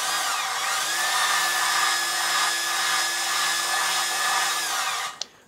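Steady whirring, gritty lapping of an engine valve against its seat with grinding compound on a Mazda BP cylinder head from a Ford Escort GT, continuous and close for several seconds before stopping abruptly.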